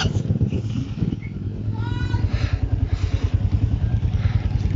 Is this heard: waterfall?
no